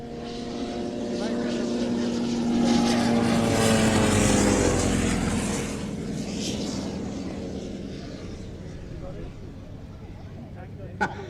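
A Nieuport biplane with a 110 hp Le Rhône rotary engine flies past at a summer air show, its droning propeller note swelling and fading with a shifting pitch while a commentator talks over it.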